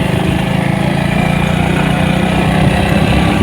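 A motorcycle engine drones steadily as the bike rides along a hill road, a loud, close, even hum with a rough low rumble and no talking.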